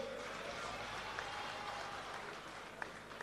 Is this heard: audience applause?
yes